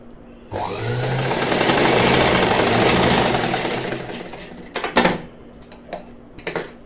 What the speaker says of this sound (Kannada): ಡೈರೆಕ್ಟಾಗಿ ಸ್ಟ್ರೇಟಾಗಿ ಸ್ಟಿಚ್ ಹಾಕೋತೀನಿ